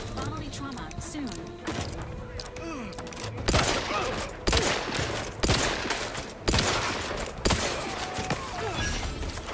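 Rapid bursts of gunfire ring out in a sci-fi space shooter, with repeated loud volleys and crackling impacts layered over a busy, noisy battle soundscape, with voices talking over the fighting.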